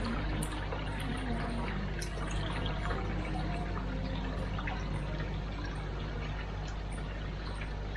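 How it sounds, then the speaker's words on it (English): Water gushes through a pump-fed system and spills out of return holes, a steady dense rushing and splashing with low hum underneath, constant and fairly close throughout. "You can hear the water coming through, and there he goes, starting to come out of the return holes."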